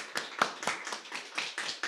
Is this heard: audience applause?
yes